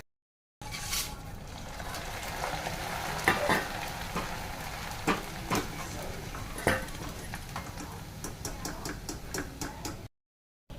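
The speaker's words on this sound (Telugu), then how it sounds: "మిక్చర్కి కార్న్స్ వేపేసుకుందాం." Corn kernels frying in hot oil in a pan for a crunchy snack mixture, a steady close sizzle with scattered scraping and stirring clinks throughout, no voices.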